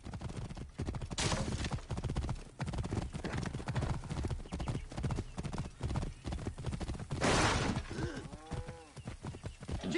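Horse hooves clip-clop in Assassin's Creed Origins, a rhythmic stream of hoofbeats with occasional whinnies and background game sounds.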